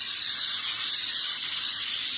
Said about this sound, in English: we're going to spray our 13 by 9 sheet cake pan